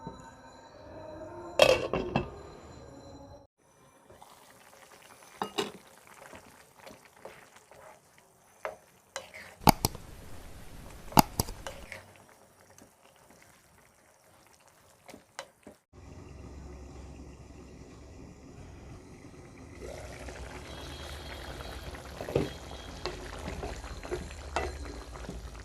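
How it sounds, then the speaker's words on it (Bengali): Chicken and peas cook in a pan over a medium flame: a soft sizzle and simmer broken by sharp clatters of stirring utensils, with quieter gaps between. "এখন মাংস নরম হওয়া পর্যন্ত রান্না করব মিডিয়াম ফ্লেমে।"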